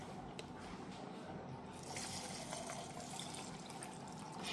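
Cold milk poured into a container, a faint liquid trickle and splash that grows slightly fuller partway through, quiet and close, with no talk.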